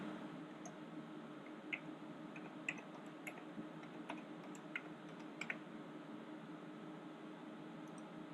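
Soft, quick keystrokes on a computer keyboard as an IP address is typed, a dozen or so faint, close clicks in an irregular rhythm over a steady low hum of room or machine noise.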